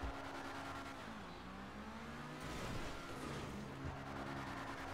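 Car engine revving and accelerating in GTA Online, a continuous loud whine that dips and then climbs again, with no talk over it.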